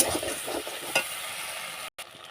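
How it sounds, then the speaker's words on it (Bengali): Onions frying in oil for a Bengali pui shak tel chorchori, a steady close sizzle with a few stirring scrapes, cut by a brief gap near the end. "এবার পেঁয়াজটাকে একটু ভাজা ভাজা করে নেব"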